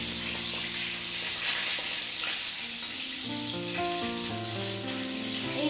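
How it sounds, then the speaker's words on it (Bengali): Fish pieces pan-fry in oil, a steady close sizzle and crackle running the whole time with no one speaking, while a bed of soft background music plays underneath. "এই ভাজাগুলো একবারে এক খোলা ভাজবেন"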